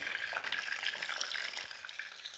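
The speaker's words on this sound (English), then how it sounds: "So I'm pan frying it tonight, but I normally just bake it." Salmon fillets sizzling in a frying pan, a steady close crackling hiss with no talk over it.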